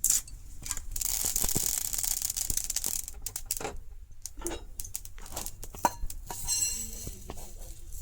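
Bay leaves torn by hand for a Bengali amla (Indian gooseberry) pickle, giving close, crackly tearing and rustling with a few small clinks of utensils, brief bursts scattered over about eight seconds with no talk.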